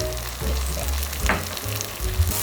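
Webfoot octopus stir-fries in a spicy chili sauce that is beginning to char, giving a continuous close sizzle with soft stirring movements and small pops, with no voices.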